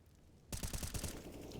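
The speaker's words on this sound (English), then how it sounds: "Cypher awaits the gunfire and hides away from it." A burst of rapid automatic gunfire in the shooter game CS:GO kicks in abruptly after a quiet moment, a loud rattling string of close shots.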